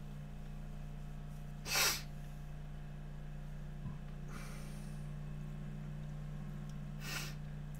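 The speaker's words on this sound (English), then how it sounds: "perpetual sneeze" Three sharp sneezes burst out a few seconds apart, close to the microphone, over a constant low electrical hum in an otherwise quiet room.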